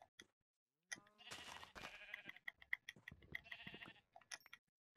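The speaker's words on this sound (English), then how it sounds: "There's another sheep." Sheep bleat in Minecraft, with several wavering calls in quick succession that stand out clearly against near silence.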